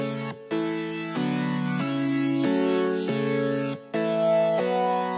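FL Studio beat layering an Electra Micro Chord preset with a Flapper synth sound, sustained chord tones changing every half second or so with two brief dropouts, loud and alone with no talk.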